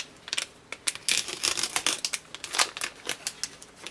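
A plastic tofu package being cut open in a kitchen, a close run of crisp crinkling and snipping with rapid clicks and rustles for a few seconds.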